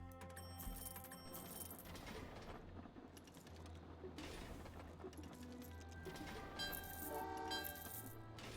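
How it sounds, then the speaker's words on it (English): A train in the video game Train Valley 2 rumbles past at steady volume with a low horn-like tone, sustained and mechanical, filling the whole stretch without pause. "we've got to wait for this A train to get past"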